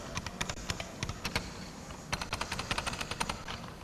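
Rapid keystrokes on a computer keyboard at a 1992 PC trade show during an OS/2 demonstration, a dense run of crisp close clicks with a brief pause partway through.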